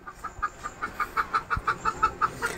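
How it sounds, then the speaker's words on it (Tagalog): A chicken clucks in a steady, evenly spaced run of about a dozen short notes, moderately close, with no talking. "Narinig nyo yung manok na yan?"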